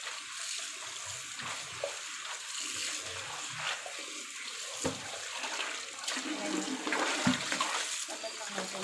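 Water runs and splashes into a container over razor clams and other shellfish set to soak for a soup, a gushing, bubbling pour with uneven surges.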